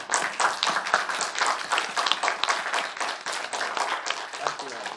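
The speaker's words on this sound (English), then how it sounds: "let's give you a applause" A congregation claps for standing veterans. The applause is brisk, dense and close, with many hands, and it holds steady for a few seconds.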